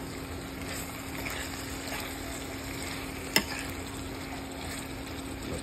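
Food sizzles and fries steadily in a pan with a constant hiss and faint crackle, plus a single sharp click partway through, and no voices.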